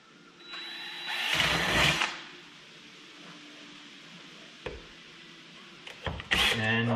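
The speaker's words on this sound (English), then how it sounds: "All we're doing is just drilling out this stack." A power drill drilling out a metal stack for a homemade smoker whirs loudly for about a second, then stops; later a few short clunks and another brief burst of drilling.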